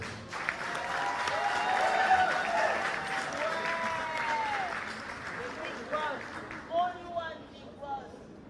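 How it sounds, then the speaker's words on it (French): Applause at a hotel gala evening at the Hilton, a dense crowd clapping steadily that thins out toward the end, with voices and cheers mixed in over the clapping. "on accompagne encore une fois par les applaudissements"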